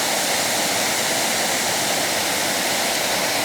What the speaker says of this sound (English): we're out here at Wadsworth Falls